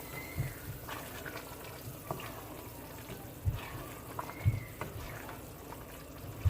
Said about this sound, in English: Now guys, I wash my rice.